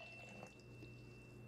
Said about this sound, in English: And we're gonna add 2/3 cup of water